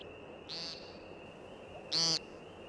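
American woodcock, or timberdoodle, in its spiraling display descent giving liquid chirps: two brief, bright twittering bursts a second or so apart, moderately close, over a quiet outdoor background.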